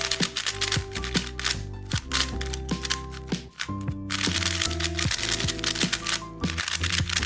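A speed cube from TheCubicle, new, very tight and dry, being turned fast, giving dense, loud plastic clicking and clacking in rapid irregular bursts, close up, with no talking.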